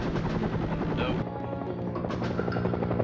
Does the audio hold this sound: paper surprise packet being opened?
no